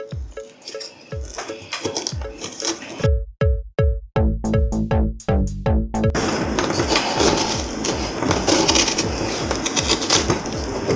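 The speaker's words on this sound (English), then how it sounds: "there's a spiked edges on the knife, so it would help me scrape all those parts that I can't reach" A spiked knife scrapes and thuds inside a carved Halloween jack-o-lantern pumpkin, making a run of rapid, rhythmic knocks and rasps that settles into a steady gritty scraping, heard close with no talking.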